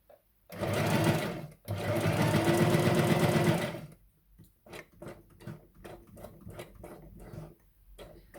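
A sewing machine runs a straight stitch in two loud, steady bursts, followed by quieter ticking clicks and small handling sounds.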